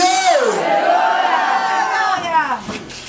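A church congregation roars in acclamation, a loud sustained crowd cheer and shout of praise with voices rising and blending for about three seconds before tapering off.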